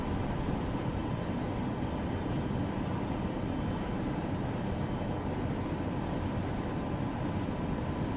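Airplane engine in Microsoft Flight Simulator 2024 as the plane descends to land with the throttle pulled back: a steady, loud, broadband drone with a deep rumble, unbroken and with no talking.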